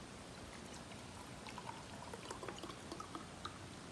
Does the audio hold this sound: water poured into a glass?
yes